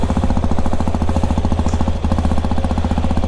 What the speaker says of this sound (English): let's just hear the exhaust note also